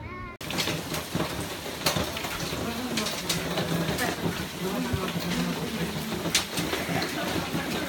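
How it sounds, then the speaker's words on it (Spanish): Steady rain falling at Plitvice Lakes National Park, a continuous dense patter with occasional sharper drops and taps on nearby surfaces, loud and close throughout after a brief quiet start. "Estamos en Plitvichka Jezera, en el Parque Nacional de los Lagos de Plitvice. Está lloviendo."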